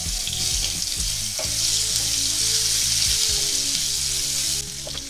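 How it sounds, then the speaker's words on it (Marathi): Onion paste sautés in a pan for mutton masala, a loud, continuous close sizzle with a few stirring scrapes, over a melodic music backing that runs throughout. "कांद्याची पेस्ट चांगली लाल रंगावर होईपर्यंत परतून घ्यायची"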